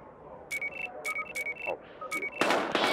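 Gunfire rings out in the PS4 video game Battlefield Hardline (2015) as a rapid series of short sharp shots over steady background noise, building to louder, denser blasts at the end.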